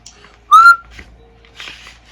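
A person whistles a rising 'woo' in imitation of a train whistle: one loud, close, sliding whistle of under half a second, then quieter clicks and rustling.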